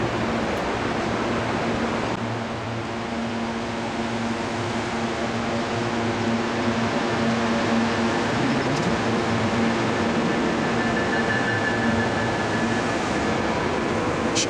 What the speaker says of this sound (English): I'm at Denver Union Station, where we see Amtrak train number 5, the California Zephyr.